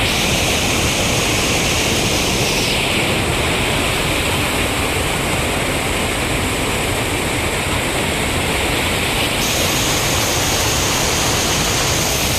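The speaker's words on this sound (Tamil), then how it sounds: "தண்ணியோட வேகம் அதிகமா இருக்கு" Loud, steady rush of fast-moving river water at Hogenakkal, a continuous broadband roar filling the whole stretch with no pauses.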